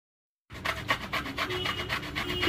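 Peeled taro rubbed against a grater gives a rapid, rhythmic rasping scrape that starts after a brief silence and continues steadily, close and alone without talk.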